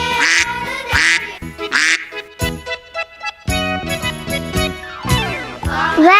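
A cartoon duck's quacks ring out in a children's farm-animal song, with several loud nasal quacks over bright jingling music and tinkling accompaniment.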